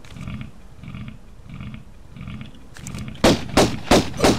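Gunfire at a crocodile in Tomb Raider I, in Greece at St Francis' Folly: a run of soft rhythmic grunting pulses, then four loud, sharp pistol shots fired in quick succession, close by.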